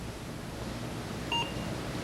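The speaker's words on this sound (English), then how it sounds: "if you can hear the beep sounding" A single short, clear electronic beep from a camera timer, heard once against a quiet room background with faint hum.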